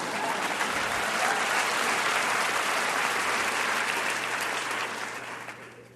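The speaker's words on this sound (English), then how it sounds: "you can clap for that" An audience at a talk on liberation ecology bursts into sustained, dense applause that holds steady for several seconds before fading toward the end.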